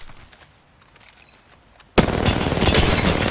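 Sudden loud gunfire in Apex Legends erupts after a quiet stretch and keeps going as sustained, rapid shooting that fills the rest of the moment.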